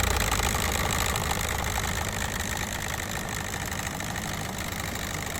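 A car engine idles steadily after a clutch replacement, giving a close, continuous hum with a faint knocking texture and no talk.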